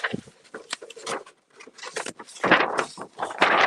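A pen scratches across stiff paper at least 100 years old in short, uneven strokes, the scraping rising and falling with brief pauses between them, close up and fairly loud.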